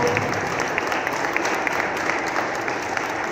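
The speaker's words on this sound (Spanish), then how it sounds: "Vamos a dar un aplauso a Dios" A church congregation in Cuernavaca applauds God at the end of a service, a steady wash of clapping from many hands, moderately loud and continuous without pause.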